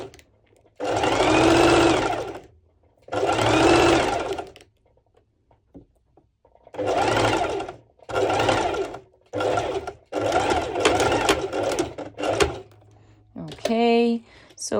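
A sewing machine stitches a lettuce edge on bikini bottoms in several short, buzzing runs of a second or two each, close and clear, separated by brief pauses with small clicks of handling.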